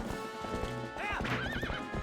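A horse in the video game Twilight Princess HD gallops with a quick clip-clop rhythm of hooves, then lets out a loud rising-and-falling whinny near the end, with game music underneath.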